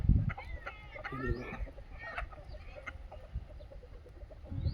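Desi (Indian native breed) chickens on a free-range poultry farm cluck and chatter nearby in short, bursty calls, with some scattered background noise and movement.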